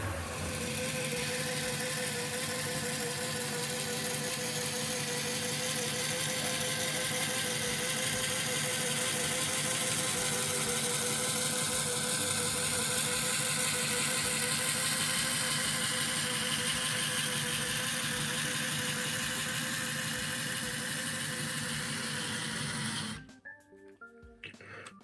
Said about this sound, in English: I think these ribbed wheels don't really like the rolling road very much